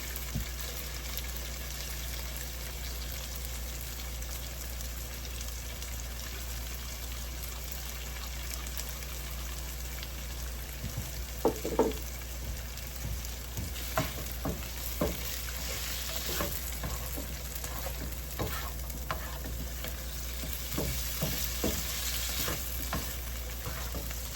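Garlic fries and sizzles in a pan as it gets stirred, a steady hiss throughout with scattered scraping and clicking strokes of the utensil growing busier midway.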